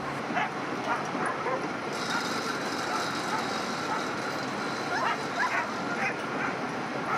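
Many sled dogs in a dog yard bark, yip and whine at once in a steady, dense chorus, some close and some farther off, with no break.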